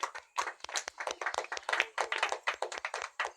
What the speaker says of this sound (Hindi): जी तो महिलाओं के लिए एक बार जोरदार तालियां